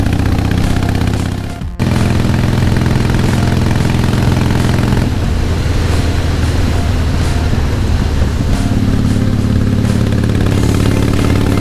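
A group of Honda Goldwing motorcycles rides past on the road, a loud continuous engine drone with a sharp break early on, then shifting rumble and clatter as the bikes go by.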